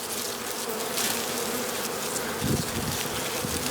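Honeybees swarming at a hive on a calm, windless day while fondant is laid out for them, a steady dense buzzing of many insects up close with a few louder passes near the microphone, no talking.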